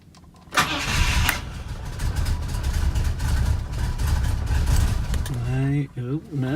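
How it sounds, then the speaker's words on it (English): A 1968 Rover P5B Coupe engine cranks and catches, then settles into a rough, close idle with a few revs near the end; a voice is heard briefly. "let's start the car"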